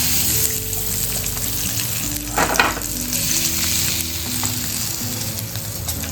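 Semolina-coated stuffed pomfret fries in a pan with a steady, close, dense sizzle, broken by a brief clatter of stirring or handling midway.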